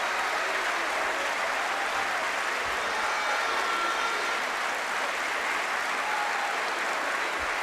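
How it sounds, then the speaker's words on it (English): A judo arena crowd at the Tel Aviv Grand Slam, on its feet after a golden score match, roars with sustained dense applause and cheering, a steady wash of sound with no clear voices. "They're on their feet, they're cheering"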